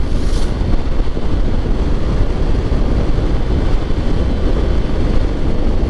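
A smooth-running motorcycle rides along a road near Vigan, giving a steady, loud rush of wind and low engine rumble that holds unbroken throughout, with no talking.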